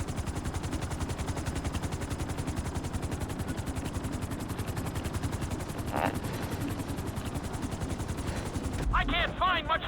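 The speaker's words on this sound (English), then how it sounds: "Bring the helicopter down gently onto the helipad." Helicopter in Grand Theft Auto V setting down onto a helipad, a loud steady rapid rotor chop throbbing continuously, with a brief burst of different game sound near the end.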